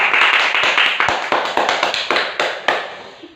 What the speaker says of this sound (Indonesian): Tepuk tangan dong untuk Al.